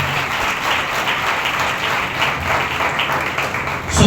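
Church congregation applauding during a Sunday service, a steady, dense wash of clapping that holds at even loudness for about four seconds, with a thump near the end.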